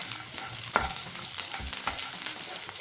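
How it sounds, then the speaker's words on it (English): Green chili frying in a pan, a close steady sizzle with occasional stirring scrapes and light clinks, heard alone without talk. "Now I'm gonna add green chili."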